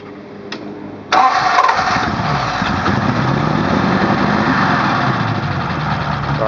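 A 1932 Ford flathead V8 cranks briefly with a sharp click, then catches and settles into a loud, steady, close idle rumble that continues to the end.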